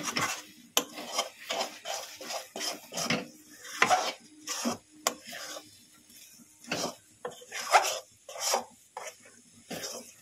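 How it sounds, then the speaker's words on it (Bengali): Spoon scraping and stirring semolina sweet with milk in a pan, irregular close rasping strokes with brief pauses, no talking. "দিয়ে ভালো করে নেড়ে চেড়ে নেব।"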